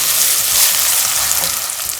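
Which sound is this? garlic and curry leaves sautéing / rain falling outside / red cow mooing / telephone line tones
garlic and curry leaves sautéing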